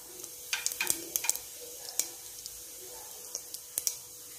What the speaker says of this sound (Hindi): जीरा अच्छे से भून चुका है।